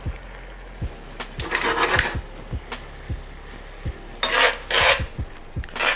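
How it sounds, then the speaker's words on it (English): Spaghetti tossed and folded through a scallop pasta sauce in a pan: scraping, rasping stirs with soft sizzling, light clinks of utensil on pan at irregular intervals, close and moderately loud. "Just toss it around nicely. Kind of fold it into the sauce."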